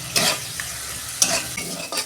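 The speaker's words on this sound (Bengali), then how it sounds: "মশলাটা আমি 2 মিনিট মতন কষতে নেবো" A spice masala with salt is sautéed in a pan, crackling under a steady sizzle. Several scraping spoon strokes sound up close, with no voices.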